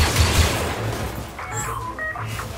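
Blaster gunfire in the Star Wars Battlefront 2 campaign on Endor, loud rapid shots at first, then thinning out as electronic tones and other game sounds take over.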